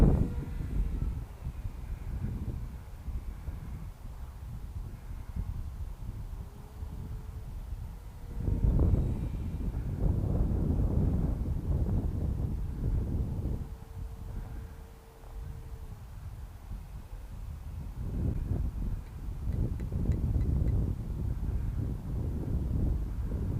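Gusty outdoor wind buffeting the microphone in a steady low rumble that swells and eases over about twenty seconds, with a faint whine drifting through at times and no talk.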